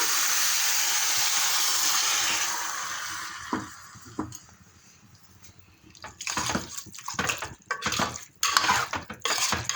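A steady pour of water hisses for a few seconds into a metal pan of chicken sukka cooking on high flame, followed by clinks and scrapes of the pan and utensils.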